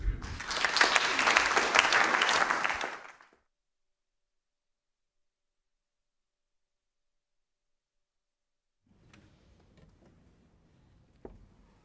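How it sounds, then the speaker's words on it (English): Audience applause rings out loudly for about three seconds after a wartime music performance, then stops abruptly into silence, followed by faint stray noises. "Give them a warm applause."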